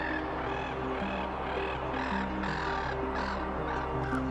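Black-headed gulls calling across a canal, a run of harsh, repeated cries over a steady low background hum, moderately loud and carrying over open water.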